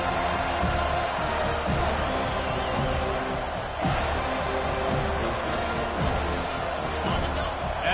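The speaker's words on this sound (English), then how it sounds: "listen to the roar of this crowd" A football stadium crowd roars steadily through the whole stretch, a dense, sustained wall of noise with small swells and no quiet gaps.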